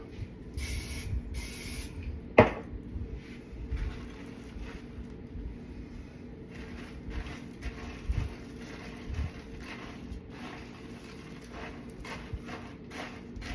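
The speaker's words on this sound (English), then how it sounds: "I'm gonna spray it with some nonstick spray just to help" A short hissing burst of nonstick cooking spray onto a spatula stands out briefly against a steady background hum, with no talking.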